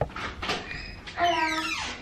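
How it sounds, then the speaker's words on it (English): A door creaks open with a drawn-out, wavering squeak after a couple of soft knocks or bumps, heard close by in a quiet room with no talking. "That door's squeaking"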